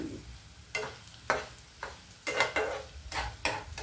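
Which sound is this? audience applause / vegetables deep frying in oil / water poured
vegetables deep frying in oil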